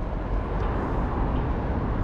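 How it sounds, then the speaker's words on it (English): An airplane passes close overhead on a city street, a broad, steady roar of engine noise filling the scene, loud and continuous without talking. "There's a plane coming."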